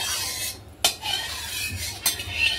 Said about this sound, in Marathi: आपल्या उलटणीने सगळ्या कढईला असं पसरून घ्यायचं